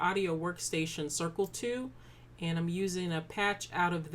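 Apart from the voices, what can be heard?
No everyday noise stands out behind the speech.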